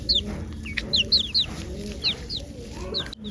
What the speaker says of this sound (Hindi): मुर्गी है, ये मुर्गी को पीछे कर लेता हूँ।